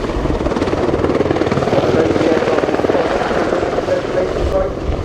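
An Army Air Corps WAH-64D Apache Longbow helicopter in a flying display at an air show, its rotor thumping steadily and fairly loud throughout, with a slight swell in the middle.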